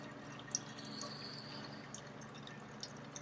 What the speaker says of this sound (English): there's actually a lot more water coming out of here than I thought there would be